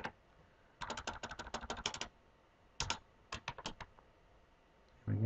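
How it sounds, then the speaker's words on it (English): A computer keyboard typed in quick bursts, rapid crisp key clicks close by, two clusters of strokes separated by short pauses, with nothing else heard. "I think what I can just do is type"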